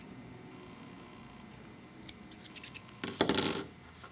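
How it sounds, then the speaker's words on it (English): Scissors snipping the loose cotton ends poking out of a vape coil, a few quick close-up cuts with faint rubbing, building to a brief louder flurry near the end. "I'm going to cut the ends off."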